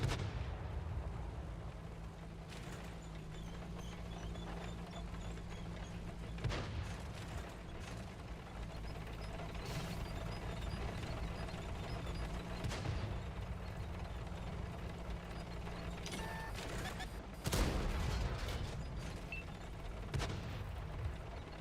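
Tank cannon shots in a tank battle video game: several booming blasts spaced across the stretch, with mechanical clanks and whirring between them and no voices.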